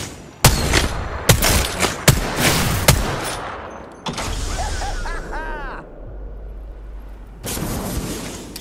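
Video game gunfire: loud shots burst out in rapid bursts, then a stretch of softer battle noise with electronic warbles, then another run of firing. Faint voices sound under the action.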